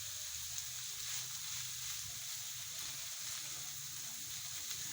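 Masala spices cooking in a pan give a faint, continuous frying sizzle with a soft hiss and a low, steady background that holds unchanged throughout.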